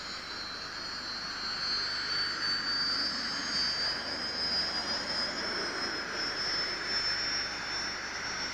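A Panavia Tornado jet flies at a 1999 British airshow, its engine making a steady, far-off roar with a thin high whine that swells a little and holds throughout.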